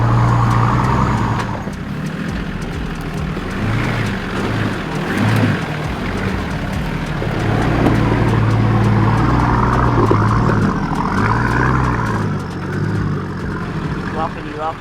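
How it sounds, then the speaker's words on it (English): Nissan GQ Patrol 4WD working along a wet track in Toolangi State Forest, its engine droning and surging at low pitch throughout with bumps and splashes, while people talk over it. "These GQ patrols are so fun to drive on the tracks and super capable."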